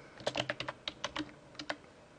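Rapid keystrokes on a computer keyboard as a recording name is typed into the SmartPalate 2.0 software, about a dozen close, crisp clicks in an uneven burst with a short pause before the last few.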